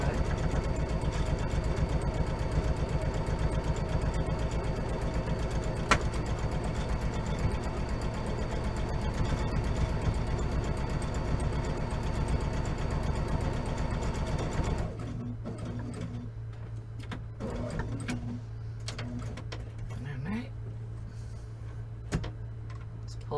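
A sewing machine stitches a tote bag with the needle-down setting, giving a loud, steady rapid whirring hum for about fifteen seconds before it stops, leaving a low hum and a few light clicks and thread-handling sounds.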